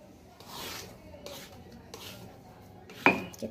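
Fried potatoes being mashed by pressing in a bowl for potato fritters, soft rubbing and squashing scrapes at close range, with a sharp utensil clink near the end.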